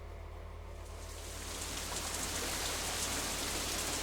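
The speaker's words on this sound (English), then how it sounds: "As we approach the girls' dormitory, it starts to rain again." Steady rain falls in the visual novel Katawa Shoujo, a dense, even hiss that swells a little louder after the first second and continues without pause, with no voices over it.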